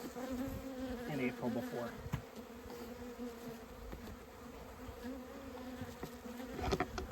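Honey bees buzzing around an opened beehive during a spring hive inspection, a steady swarming hum close by with a few brief knocks and handling sounds, while a voice speaks briefly.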